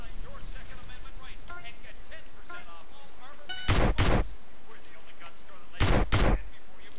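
A sawed-off double-barrel Lupara shotgun fires in the MTA video game: two loud, close double blasts a couple of seconds apart, each a pair of quick shots, under ongoing background game noise with speech around.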